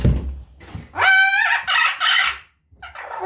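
Pet parrots in an indoor bird room give loud, harmonic crowing-like calls in three close bursts, then a fainter call after a brief pause.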